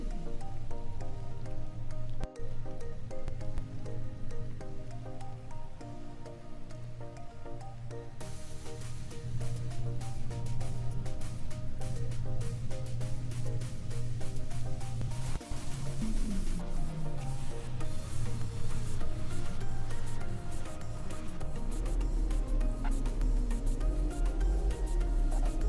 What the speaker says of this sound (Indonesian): Kali ini eventnya event hujan lebat deras